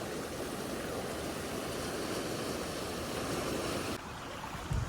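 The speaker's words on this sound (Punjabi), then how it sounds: "ਆ ਇਧਰੋਂ ਵੀ ਪਾਣੀ ਉੱਤੋਂ ਚੱਲਣ ਲੱਗ ਪਿਆ ਲੋ" Sutlej River floodwater pours over a temporary crossing built for reaching the fields, making a constant, loud rushing roar of turbulent water that stays steady throughout.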